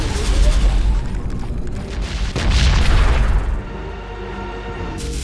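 Heavy Minos cannon fire in the Siege of Centauri game, deep booming rumble that swells loud and low for a few seconds before settling into a quieter background.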